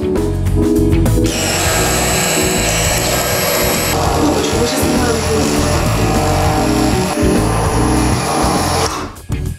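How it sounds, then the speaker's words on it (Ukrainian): Hand blender whirring at full speed inside a container while homemade mayonnaise is made, a loud continuous motor drone with shifting pitch as it churns, starting abruptly and cutting off near the end. "Берем блендер, вставляем его вниз и запускаем."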